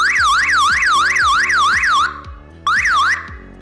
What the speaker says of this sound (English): No, that's a siren.